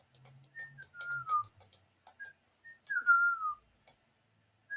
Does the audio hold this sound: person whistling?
yes